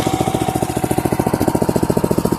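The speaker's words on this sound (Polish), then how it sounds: "Traktorek chodzi jak widać na wolniutkich obrotach" A small Mesko garden tractor engine idles at low revs, a steady rapid chugging pulse that stays even and close throughout, with no voices.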